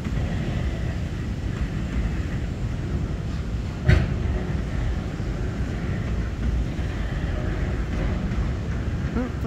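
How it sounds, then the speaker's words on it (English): A long southbound freight train of autoracks rolls past near Eagleville in a steady, loud rumble and rattle of cars, with one sharp metallic bang partway through and no let-up. "This is a long train."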